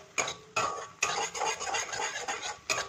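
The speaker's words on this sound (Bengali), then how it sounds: "নুন দিয়ে ভালোভাবে নাড়িয়ে নেব" A utensil stirs Maggi noodles with spices and salt in a pan, making a few distinct scraping, clattering strokes close by, each starting sharply and trailing off over a few seconds.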